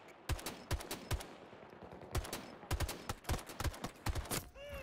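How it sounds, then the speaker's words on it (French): An automatic turret in Battlefield 2042 fires rapid bursts of gunshots in uneven clusters, loud and close, with short pauses between the volleys. "On sait pas qu'une tourelle peut me tirer à 120 mètres, tu vois. Une tirée automatique."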